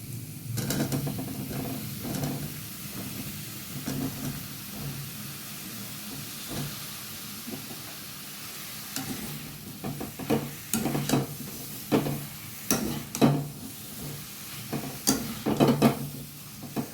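Sponge gourd going into a sizzling spice masala in a pan, with a steady hiss of frying underneath and repeated scraping stir strokes and clinks, growing busier toward the end; no talk.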